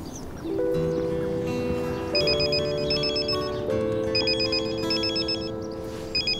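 A mobile phone ringtone plays for an incoming call in a Turkish TV drama scene, a steady melodic electronic tune repeating its pattern, clear and close with no talk over it.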